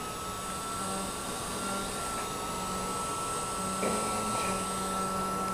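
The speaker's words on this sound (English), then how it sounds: "So as you can see, the fan spins up." A small electric cooling fan controlled by a thermal diode spinning up, a steady whooshing whir close by with faint rises in tone, and no talking.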